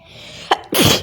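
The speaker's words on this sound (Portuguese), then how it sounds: "Mano, não para de espirrar, meu Deus." A single sharp sneeze bursts out loud and close, preceded by a brief short sound, with no talking.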